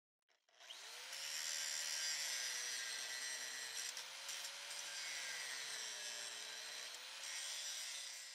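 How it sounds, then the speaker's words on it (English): Grinding cut-off metal cable anchors flush on a tower deck, a continuous high-pitched screech, close and steady, with the motor pitch wavering slightly as the tool presses against metal for several seconds. "Now grind these down flush."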